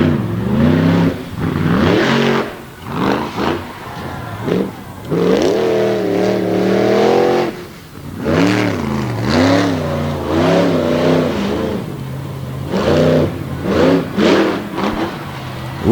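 A big Ford-bodied monster truck with a 540-cubic-inch engine roars and revs through a freestyle run at a championship event, loud and close, with the pitch repeatedly surging and dropping as the throttle is worked.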